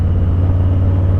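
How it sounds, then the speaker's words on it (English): Steady, loud low-pitched engine rumble from a Harley-Davidson Low Rider S motorcycle during a clutchless upshift, a brief continuous drone with no clear gear change audible. "Shifting up clutchlessly, it's so sweet."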